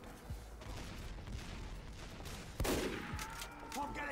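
Gunfire rings out in Team Fortress 2, with a steady spray of game shots followed by one sharp, louder crack, playing under game sound with voices at a low level.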